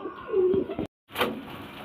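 Pigeons kept for sale coo close by in a short low burst, then a brief gap of silence before more cooing and soft rustling resume.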